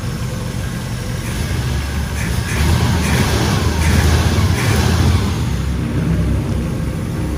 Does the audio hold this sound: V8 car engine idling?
yes